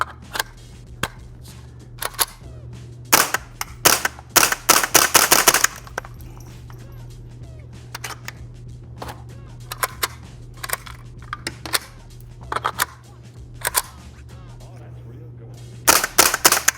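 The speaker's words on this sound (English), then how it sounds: "So instead of getting footage of the gun functioning flawlessly, I only have footage of the gun jamming up." Gun fitted with a CMMG conversion kit firing and jamming: sharp gunshots in short irregular clusters with gaps between them, heard against a steady low background hum.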